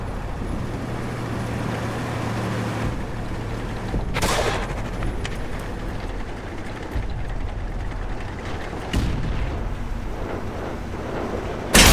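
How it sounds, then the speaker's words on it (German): Artillery fire in the tank game World of Tanks: a couple of sharp broadband blasts, one near 4 seconds and another near 9 seconds, stand out over a constant rumbling engine and battle background, with no talking. "Vorsicht, Artillerie!"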